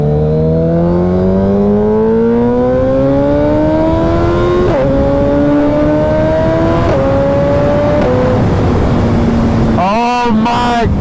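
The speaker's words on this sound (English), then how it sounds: "Even the upshifts, you get like this pop from the BT Moto tune." A Suzuki Hayabusa sport bike with a BT Moto tune accelerating hard, engine pitch climbing steadily through several upshifts with sharp pops, loud and close under wind rush.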